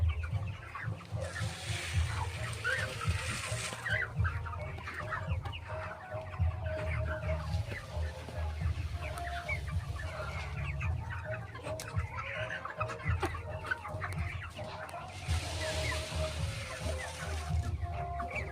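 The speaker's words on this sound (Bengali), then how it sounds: "মুরগির তো সর্দি যাচ্ছে না আর তারপরে এরকম করে মুরগিগুলো মরে মরে যাচ্ছে" Sick chickens on a poultry farm, a flock clucking and murmuring continuously at close range, with scattered sharper calls over a low steady hum, no clear speech.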